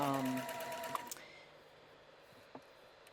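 Sewing machine stitching through a knit neckline along a serged edge, a brief close whirring run that stops quickly, followed by faint handling noises and a soft click.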